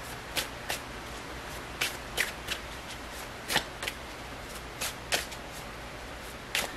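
Tarot cards are shuffled in a soft, quiet series of riffles and flicks, irregularly spaced, close by and alone without talk.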